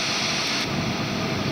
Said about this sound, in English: Same sort of thing if I go with white noise